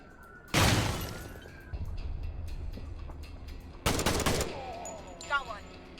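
In the video game Door Kickers 2, a thrown grenade detonates with a booming blast, followed later by a loud burst of gunfire and shattering, with game effects trailing off afterward.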